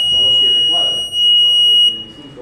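An active buzzer in a classroom electronics circuit practice gives a steady, piercing high tone for about two seconds, then cuts off as a cable is pulled, with a voice talking underneath.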